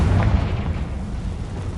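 A Confringo blasting spell explodes in the Hogwarts Legacy video game, giving one heavy boom up front that rolls off into a sustained low rumble.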